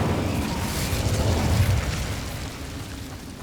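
An Incendio fire spell bursting in Hogwarts Legacy: a loud, close rumbling whoosh of flame that swells and slowly fades over a few seconds, heard alone.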